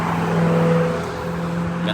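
Sports car on a suburban street, engine hum swelling as it passes near, then easing off, with a voice talking over it.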